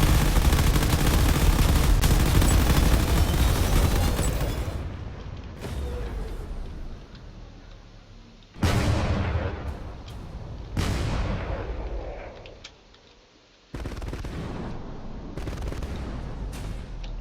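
Heavy cannon fire pounds a base in a space strategy video game, loud booming blasts and rumbling gunfire in dense bursts, with several sharp new volleys breaking in after quieter gaps.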